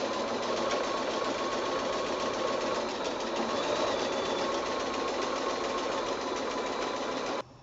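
A sewing machine stitches along a quilt seam, a steady close whirring drone that runs without pause and cuts off abruptly at the very end.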